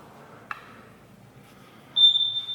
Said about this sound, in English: there's a smoke detector in here that is beeping